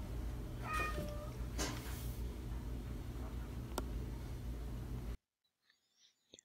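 A frightened house cat meows twice in quick succession over a steady background hum, then the sound cuts to near silence with faint scattered noises.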